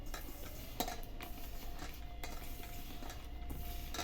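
Semolina, ghee, roasted dry fruits, powdered khoa and cardamom powder stirred together by hand for rava laddu, with scattered clinks and scrapes of a spoon against a bowl throughout, close and moderately quiet.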